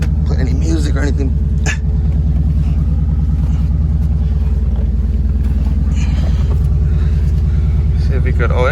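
A car's engine runs at a Copart auction yard in Houston, giving a loud, steady, close rumble throughout, with voices talking over it.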